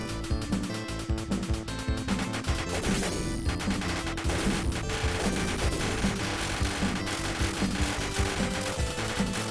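Arcade shooter Raiden II blasting turrets, a dense nonstop barrage of rapid gunfire and explosion effects layered over loud driving game music, with no talk.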